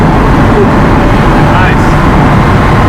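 A Ferrari 360 Spider engine roars loudly and steadily throughout, a dense, continuous rush with no pause, heard close up from on board.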